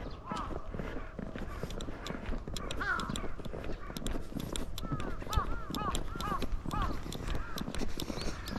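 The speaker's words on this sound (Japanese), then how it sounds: "カラスたくさんいます。" Many crows caw in a winter forest in February, several harsh calls repeating from mid-distance in loose bursts, over rustling and crunching footsteps, with faint background noise throughout.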